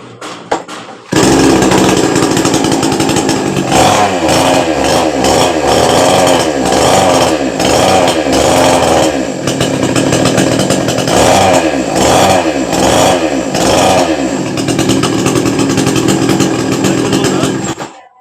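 A tree-cutting chainsaw started after a brief quiet moment, then running loud and close with a rough, buzzing idle that rises and falls repeatedly, the engine failing to reach high speed under load.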